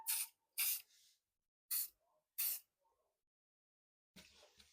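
Aerosol hairspray sprayed over a work surface in four short, loud hissing bursts with gaps between, followed by a quieter rustle at the end.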